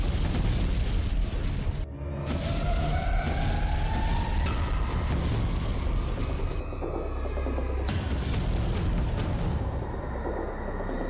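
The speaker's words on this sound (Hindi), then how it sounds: "रूस की सेना यूक्रेन की राजधानी कीव पर कब्जा जमाने के लिए ताबड़तोड़ हवाई हमले कर रही है।" Russian air strikes hit Kyiv in news footage: loud rumbling booms and blasts carry on continuously, with a rising wail like a siren or a jet cutting through partway.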